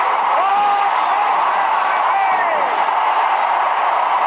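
A 1954 baseball stadium crowd roars for Willie Mays' catch, a sustained, distant-sounding wall of cheering with whoops rising above it, heard through an old, narrow-band broadcast recording.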